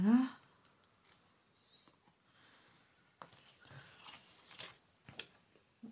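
Scissors snipping paper while cutting a square for a handmade double-square card, a series of crisp cuts with quiet pauses between them, close and fairly faint.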